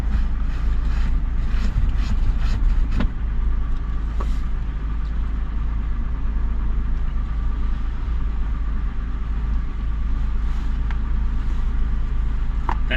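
A Mazda Bravo with a 4-litre V6 idles after an oil and filter change, a steady low rumble holding evenly throughout with a few faint clicks and knocks on top.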